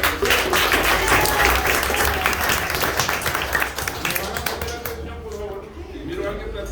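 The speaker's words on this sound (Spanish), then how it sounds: "Un aplauso para el" Classroom audience applauding at a school presentation on the history of Honduras, steady dense clapping throughout that thins slightly toward the end, with voices mixed in.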